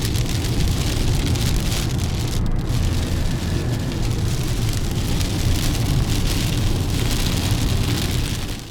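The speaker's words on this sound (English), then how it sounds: "currently we are here in this hailstorm" Hail pelting a car driven through a hailstorm in Utah on the road to Green River, a dense, continuous drumming hiss on the roof and windshield, loud and close throughout, with no talk.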